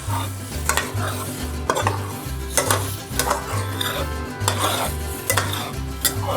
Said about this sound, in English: This goes in here, and then you start stirring.